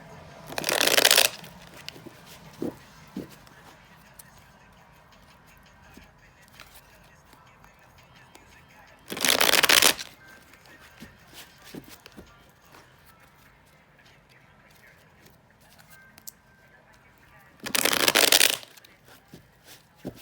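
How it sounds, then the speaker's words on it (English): A deck of cards is riffle-shuffled three times, each a short crisp burst about eight seconds apart, with quiet handling noises in between. "So I'm going to go ahead and shuffle this deck just a few more times."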